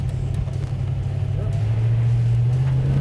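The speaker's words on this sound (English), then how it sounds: "that's what I've always loved about solid lifter engines, is they sound a lot like Italian engines because of just the way they rev" A 1965 Shelby GT350 with a solid-lifter V8 engine runs in a loud, steady drone, the pitch rising slightly as it revs, with people talking over it.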